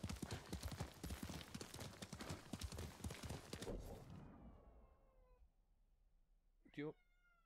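A pet cat meows insistently, several loud, near yowls ringing out clearly near the end after busy game sound and talk fade away.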